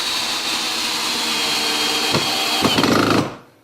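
A Hart drill driver drives a 3-inch screw into wood, a loud steady motor whine that strains and bogs as the screw seats, then cuts off abruptly.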